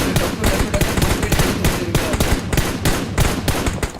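Rapid, dense bursts of automatic gunfire in the video game BGMI crackle continuously, loud and close, with layered shots overlapping in a steady, chaotic rhythm.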